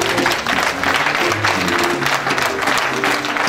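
A church audience applauds loudly and steadily, a dense wash of clapping that fills the space with no pauses.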